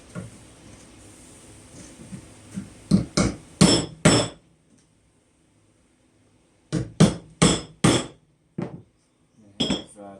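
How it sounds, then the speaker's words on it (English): Hammer strikes drive nails into Timberline roof shingles, coming in two sharp bursts of about five and six blows each, with a final tap near the end, loud and close against a quiet background. "I'm going to be nailing on the white line there, which is inside this common bond."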